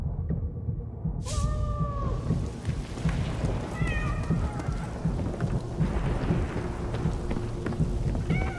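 A cat meows several times in the video game 11-11: Memories Retold, drawn-out cries rising out of steady rain, with a thunder crack just before the first meow and no voices.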